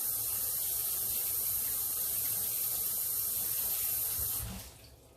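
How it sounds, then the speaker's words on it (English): Celery rinsed under a running kitchen tap, a steady loud hiss of flowing water that holds evenly and then cuts off abruptly near the end. "I'm going to rinse the celery. Make sure that it's clean."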